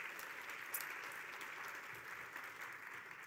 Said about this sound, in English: So a round of applause there.